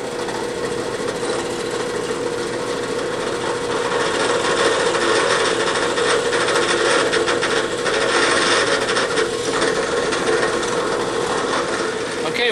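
Steady grinding, rasping drilling into wood runs continuously throughout, fairly loud and close, with a slight surge in the middle and no talking.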